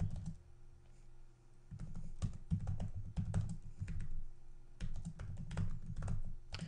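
Computer keyboard keys tapped in quick bursts while a command is entered, close and clear with short pauses between runs of keystrokes; no voices.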